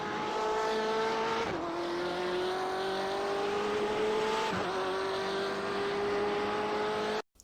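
BMW M8 GTE race car in iRacing at Watkins Glen, engine revving loud and steady with rising pitch through gears, two quick upshifts breaking the whine, continuous close onboard roar.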